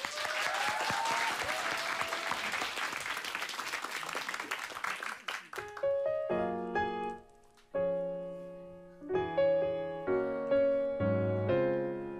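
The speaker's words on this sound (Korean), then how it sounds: "뜨거운 박수 부탁드립니다" A live-radio studio audience breaks into warm applause for a singer, dense clapping for about five seconds before it gives way to gentle keyboard chords that open the next song.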